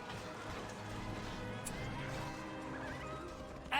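Horses whinny and gallop in the Battle for Middle-earth II strategy game, faint and blended into a dense battle soundscape with a brief sharp hit at the very end.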